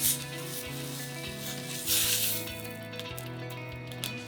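Roast beef sears in a hot pan to crisp the outside, a steady sizzle close by with a brief louder surge partway, over a background of soft music.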